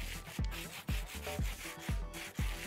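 Sandpaper rubbing in a Minecraft game, five or six even rasping strokes about half a second apart, close and fairly quiet with no talk.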